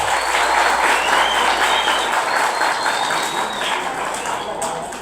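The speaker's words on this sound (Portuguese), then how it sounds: "Uma salva de palmas, gente" An audience applauds at a ceremony where a presentation is handed to the municipal health secretary: a dense, continuous wash of crowd clapping, close and fairly loud, holding steady and easing slightly toward the end.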